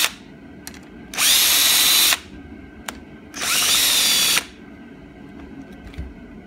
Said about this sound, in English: I put the 10 millimeter socket on my drill, and then I can go around and run all these out